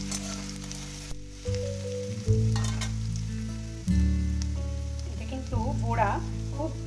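Chopped garlic and ginger fry in a pan, a continuous sizzle beneath tonal background music with a few louder bursts as the pieces go in.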